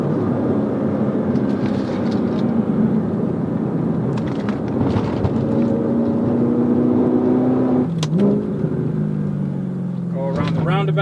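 A manual Audi R8 with 150,000 miles revs its engine while driving, giving a steady loud drone with rising and falling pitch and one sharp shift near the end, with a voice talking over it.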